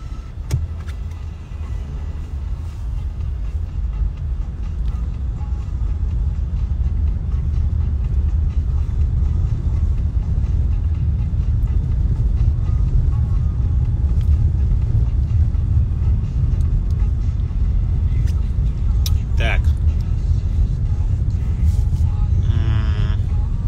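Car driving on a road heard from inside the cabin as a loud, constant low rumble of engine and tyres, with a few faint clicks near the end.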